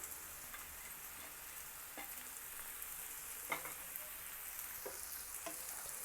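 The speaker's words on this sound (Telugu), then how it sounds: "వేసి ఇవి కాడ ముక్కలని మెత్తబడే వరకు వేయించుకోవాలి" Spinach stem pieces fry in a pan for palak curry, giving a steady soft sizzle with a few brief clicks of stirring, close and fairly quiet, with no voices.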